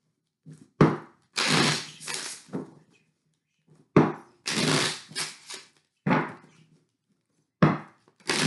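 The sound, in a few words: cards being shuffled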